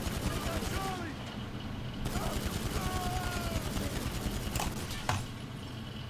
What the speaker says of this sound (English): And now I'm shooting bikers.